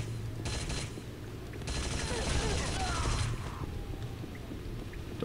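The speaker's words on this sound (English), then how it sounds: "Seems like the key is getting hit stun on them using the combat rifle" Combat rifle fire in the shooter game Return to Na Pali: dense, sustained rapid gunfire in bursts across the whole stretch, loud and close, over a low rumbling game soundscape.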